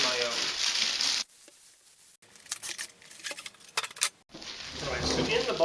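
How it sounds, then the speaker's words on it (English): A plastic bag sealed with tape, packed in the box with a carbon fiber tripod set, is handled close by with crinkling, rustling and brief tearing bursts between quieter pauses. "in the box we have this plastic bag which is sealed with tape"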